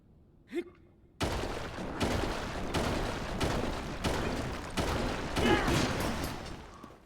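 Repeated breaking blows with a weapon in the video game Zelda: Tears of the Kingdom, a loud, dense run of crashing impacts that starts after a brief quiet moment and continues without let-up.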